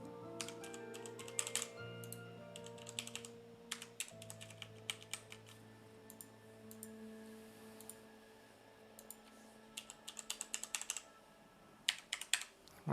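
Keys on a computer keyboard clatter in irregular bursts of quick clicks, some clusters dense and others sparse, over a soft sustained tonal background.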